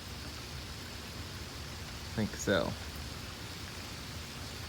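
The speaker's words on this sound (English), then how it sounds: "you guys can hear the rain now" Steady rain falls during a thunderstorm, a soft, even hiss throughout, while a nearby person briefly speaks.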